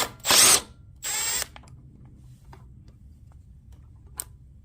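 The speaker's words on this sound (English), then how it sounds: "So we got our T40 bit here. And what I'm going to do is I'm going to go ahead and take these loose." A power driver with a Torx T40 bit backs screws out of a Craftsman 3300 psi pressure washer water pump: two short, loud whirring bursts close by, then near-quiet with one faint click.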